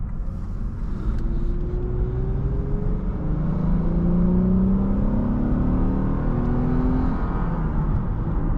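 The engine of a 2015 Lexus IS 250 F Sport revs up and accelerates with a steady, rising hum, close and continuous with no talk.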